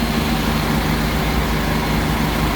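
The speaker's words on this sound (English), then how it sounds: "Idling pretty decently." A truck engine idles at about 700 RPM after an engine swap, making a loud, steady, close rumble with an even low throb and no talking.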